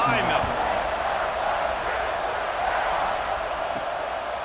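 A stadium crowd roars in a college football video game, Maryland at Ohio State, as a steady, dense wash of cheering noise that holds loud and continuous throughout.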